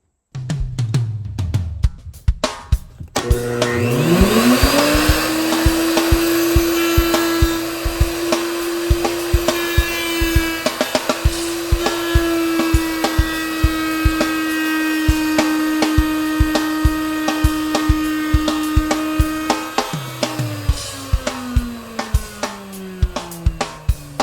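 A router spins up with a rising whine and settles into a loud, sustained high-pitched scream as it cuts an ebony endwedge on a guitar body along a template, then winds down, with sharp clicks and taps throughout.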